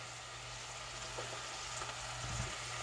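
Cut okra sautés in a pan, a soft, continuous sizzle with a low hum beneath, fairly quiet and steady with a faint bump near the end.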